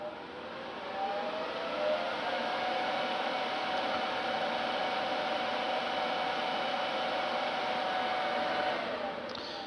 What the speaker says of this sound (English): flick the switch, the fan will come on and run for a few seconds, just while the machine boots up.